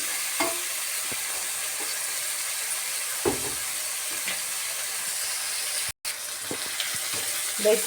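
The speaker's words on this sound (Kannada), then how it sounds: "ಈಗ ಈ ಕಪ್ಪಲ್ಲಿ ನಾಲ್ಕು ಕಪ್ಪಷ್ಟು ನೀರು ಹಾಕೋತಾ ಇದ್ದೀನಿ" Water is poured into a hot pan while making kesari bath, a semolina sweet, producing a steady close hiss and sizzle with a few soft clinks and knocks.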